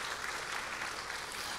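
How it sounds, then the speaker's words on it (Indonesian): A congregation applauds during a church service, a brief, fairly quiet and even wash of many hands clapping with no voices over it. "beri tepuk tangan yang meriah"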